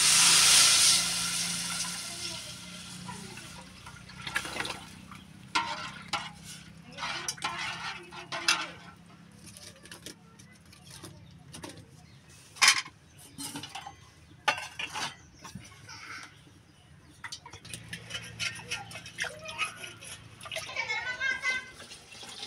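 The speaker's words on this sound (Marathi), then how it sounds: "आता येळवणी ओतून घ्या." Yelvani broth is poured into a cooking pot while making a Holi puran poli meal, a steady watery pour mixed with stirring and clattering utensil knocks over a quiet kitchen background.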